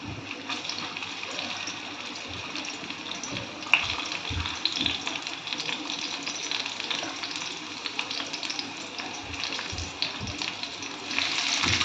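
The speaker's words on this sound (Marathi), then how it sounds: "तेल तापलं की त्यावर आपण घालायचं आहे बारीक चिरलेलं लसूण" Finely chopped garlic sizzles in hot oil in a pan, a steady bright crackling hiss that runs throughout with small pops and occasional clinks.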